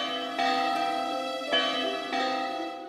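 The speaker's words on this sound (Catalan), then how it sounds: "Les campanes de Melin van repicar d'alegria." Church bells in Hamelin ring joyfully in an animated cartoon, sounding as a sustained, resonant metallic tone with three fresh strikes swelling over the lingering hum.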